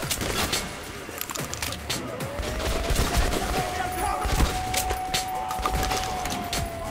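Shotgun blasts and rapid gunfire from the video game Metro: Last Light, loud and continuous over a steady rumbling game backdrop, with a rising whine running through the middle.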